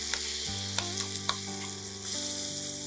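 Spice paste fries in a pan for a South Indian egg and coconut curry, giving a steady close sizzle with scattered small pops over a low continuous hum, with no talk.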